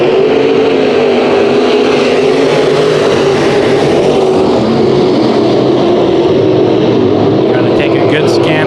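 Sport mod race cars roar around Bakersfield Speedway in a continuous loud engine drone, with a commentator talking over the racing throughout.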